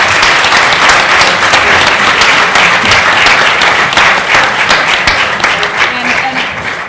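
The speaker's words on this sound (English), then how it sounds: "Please give them another round of applause." Loud, sustained audience applause for the speakers at a law school evening event on the Grenfell Tower fire, many hands clapping densely for several seconds and slowly tapering off.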